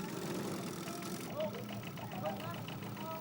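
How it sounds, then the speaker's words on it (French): A two-stroke outboard motor drives a long, flat-bottomed longtail boat with its propeller on a long shaft, fishing waters in Thailand; a steady, close mid-pitched engine drone runs throughout with faint rhythmic knocking, and voices are mixed in. "il se déplace en pirogue longue à fond plat, munie d'un moteur à 2 temps."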